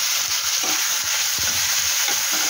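Onions frying in a pan of oil for a home-cooked fish dish, a steady close hiss and sizzle running throughout with small stirring knocks and scrapes.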